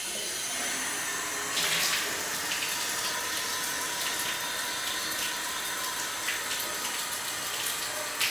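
A bathtub tap is turned on and water runs steadily into the tub in a bathroom, a continuous close rushing splash with a brief surge near the start and no talking.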